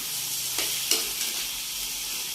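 Whole squid dropped into a hot pan for adobong pusit, giving a loud, steady hiss of frying with a couple of brief crackling spikes, close up and with no talk.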